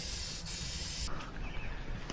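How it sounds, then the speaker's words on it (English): An aerosol can of Plasti Dip sprays a steady, close hiss onto van window glass for about a second, then stops, leaving a quieter rustle with a few faint touches. "the best way to black out windows on a van, is just using Plasti Dip"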